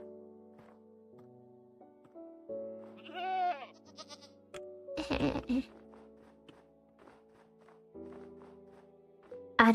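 Goats in the video game Minecraft bleat in short wavering cries between soft footsteps and a steady background hum, with a brief rustle partway through.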